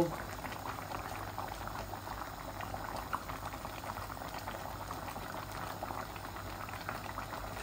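Lamb chop bhuna simmers in a pan with tomato sauce just added, a soft continuous bubbling that stays low and even for several seconds, without speech.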